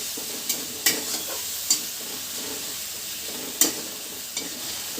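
Onion paste and green chili paste sautéing in a pan, a steady sizzle broken by several sharp spatula scrapes and clacks at irregular intervals, no one speaking.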